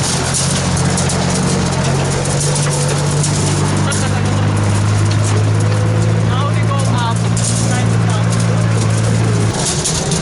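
A loud, steady low engine drone with rattling vibration runs throughout while riding in a construction supply truck on the way to the Everest region, with a person speaking briefly over it.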